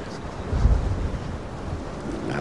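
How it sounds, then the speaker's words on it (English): Strong gusting wind rumbles across the microphone on a golf course at the 1992 US Open, a steady low roar with a heavier gust early on. "The wind is actually so strong right now."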